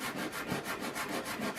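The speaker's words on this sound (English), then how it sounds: "Sanding the side is easier than sanding the end." Rhythmic back-and-forth rasp of 80 grit sandpaper worked across the side of a wooden piece during boat assembly, steady close strokes at roughly a few per second, with no talking.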